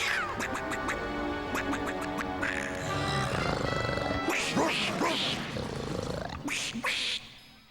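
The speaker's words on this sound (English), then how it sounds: "the saber-toothed duck." A cartoon saber-toothed duck lets out a loud, raspy series of quacks that turn into roaring growls, with rapid honking bursts early on and a grinding roar under a busy cartoon soundtrack.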